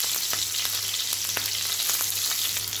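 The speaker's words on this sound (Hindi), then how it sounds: "अब इसके अंदर डालेंगे हरी मिर्च, कस करके रखा था। अच्छे से भुनने देंगे।" Green chilies roast in a pan for masoor dal, giving a steady close sizzle broken by sharp, irregular pops and spits throughout, with no voices.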